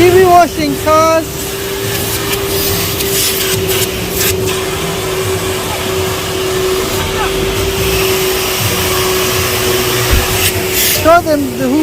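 A Henry Hoover vacuum cleaner with three motors runs at a car wash, a loud steady whine with a constant hum, joined by rustling and brief squeaky noises near the start and end.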